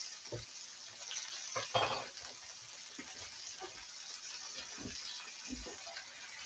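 Onions fry in butter alongside deer loin cooking, with a faint, steady sizzle broken by soft stirring clatters and a louder scrape near two seconds.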